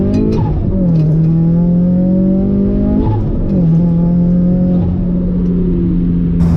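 An HKS turbocharged Subaru BRZ pulls hard, its loud, close engine note climbing steeply in pitch, dropping briefly at each of several gear shifts, then climbing again.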